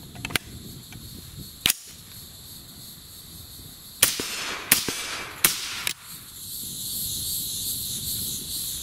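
Three sharp 6.5 Grendel rifle shots from a TX-15 fired in quick succession, sounding somewhat distant against steady outdoor background noise, with a couple of fainter clicks earlier.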